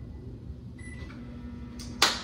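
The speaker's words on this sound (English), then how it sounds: "we're gonna throw this macaroni in the microwave with the noodles." A microwave oven cooking macaroni and noodles, a low steady hum with a few faint beeps, then a sharp click near the end.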